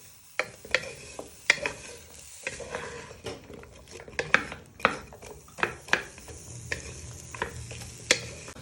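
Spoon stirring vegetables in a frying pan for curried parsnip soup, with a steady sizzle under regular sharp clinks and scrapes against the pan, close up and without speech.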